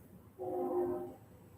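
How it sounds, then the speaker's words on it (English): A train horn sounds once in the distance, a single faint tonal blast of about a second rising out of quiet background hum. "I just heard a train."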